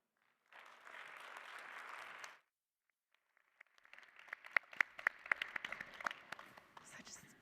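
Audience applause following a set of poetry readings at a literary anniversary event: a burst of clapping, a brief pause, then a second, more scattered round of claps with sharper individual hand strikes.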